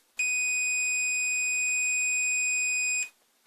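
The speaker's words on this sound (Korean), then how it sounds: "충전이 되어져 있는 것을 방전을 시키면서 삐 소리 났다가 다시 불러오는 겁니다" A single steady high-pitched electronic beep from a multimeter as a capacitor discharges on a scooter controller board, loud and continuous for about three seconds, then cutting off abruptly into quiet.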